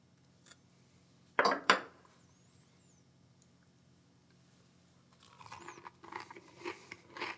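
A close, crisp crunchy bite into Irish soda bread with soft butter, currants and raisins, followed by quieter chewing and rustling after a pause.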